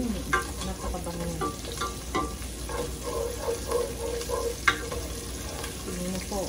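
Garlic, onion and ginger sauté in a hot pan, a continuous close sizzle with repeated scraping stirs of a utensil against the pan, no talking.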